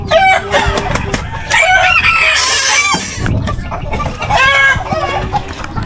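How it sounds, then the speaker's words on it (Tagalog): Chickens cluck and a rooster crows repeatedly in a loud, close farmyard, with overlapping calls filling the scene and faint talk underneath. "Ayun sana, si Manok"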